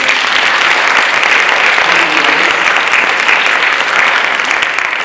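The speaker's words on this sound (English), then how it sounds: "we'd like to give you a round of applause." Audience applause at a spring STEM capstone presentation event honoring team mentors: dense, sustained clapping from a large crowd, loud and steady throughout.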